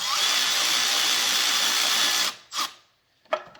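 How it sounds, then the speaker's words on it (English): An electric impact wrench runs on a 7.3L Powerstroke turbo with a loud, steady whirring buzz for about two seconds, then stops and gives two short, sharp follow-up bursts. "just going to use the electric impact, and we're not going to tighten this down."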